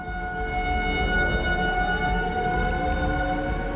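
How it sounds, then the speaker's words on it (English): A loud tornado siren wails in a sustained, steady tone that rises and falls slightly, with no voices over it. "Tornado sirens going off in the town."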